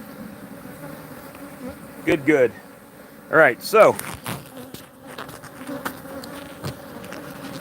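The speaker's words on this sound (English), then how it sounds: "obviously forager bees are flying back home" Forager honey bees buzz around a hive while a weaker colony is combined with a stronger one, a steady insect drone with a few louder passes close by, under a voice.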